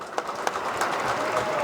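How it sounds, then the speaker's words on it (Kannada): An audience breaks into loud applause for Shashikumar at a stage event, steady clapping from a crowd throughout the short moment. "ಶಶಿ ಸರ್ಗೋಸ್ಕರ ಒಂದು ಜೋರ್ ಚಪ್ಪಾಳೆ"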